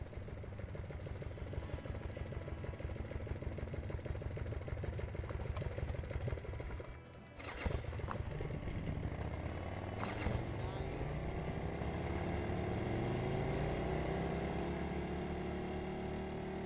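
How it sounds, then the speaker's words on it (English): Boat engines in the Gas Station Simulator video game drone steadily with a whining motor tone that rises in pitch, briefly dips, then returns as a second engine joins, sustained and fairly loud throughout. "Those boats totally don't sound like that."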